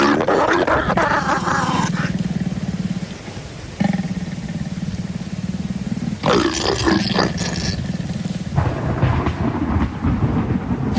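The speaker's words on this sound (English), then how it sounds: "The roars of lions disrupt the intimacy of the pair." A pair of wild lions, a female and her male, roar at evening, sending out loud, deep, repeated roars in long bursts that rise and fade with short pauses between, with no voices.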